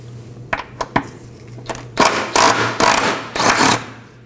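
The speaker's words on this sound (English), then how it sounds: "I'm going to remove both 15mm nuts on both sides." Wrench clicks and metallic clinks sound at close range while 15mm nuts are removed from a drive shaft center carrier bearing under a 2018-2024 Chevrolet Equinox 1.5L, with a quick ratcheting burst in the second half.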